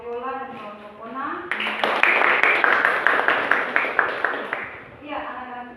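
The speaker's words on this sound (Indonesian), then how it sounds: "tepuk tangan kepada kelompok Viola dan kelompok Ona" A classroom of students applauds two student groups after their presentation on matrix multiplication, with dense clapping rising abruptly for about three seconds over a teacher's voice, then fading back into speech.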